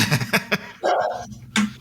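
A pet dog barks and whines in fits at a UPS delivery man arriving at the house, several loud close yaps in quick succession, then a sustained whimpering cry and one more bark.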